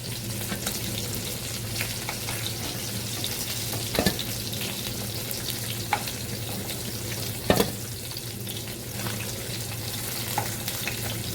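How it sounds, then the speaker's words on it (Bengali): Fish frying in oil in a pan, a steady close sizzle throughout with a few sharper pops and clatters of a utensil, no voices. "এবারে মাছগুলো ভাজা হয়ে গেছে আমি তুলে নেব"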